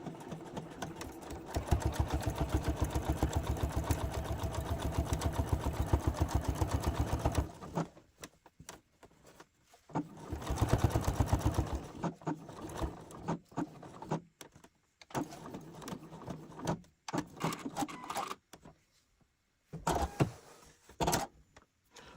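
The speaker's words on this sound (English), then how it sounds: "So I will be sewing my pocket piece on at 5/8 of an inch seam allowance between the dots." A sewing machine stitches on a garment pocket piece with a fast, loud, steady mechanical whir in two bursts, followed by quieter handling clicks and pauses.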